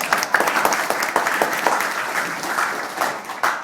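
Audience applause at a live radio-play performance of My Favorite Husband by a touring company, a dense burst of many clapping hands lasting a few seconds.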